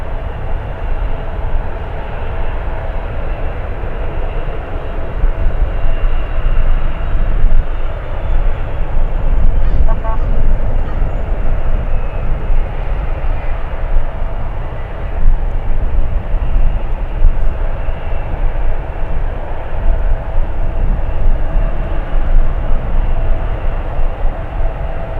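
A long-haul airliner from Hong Kong at San Francisco airport gives a loud, continuous jet roar that swells slightly midway and holds steady, with a thin whine above the low rumble and no voices.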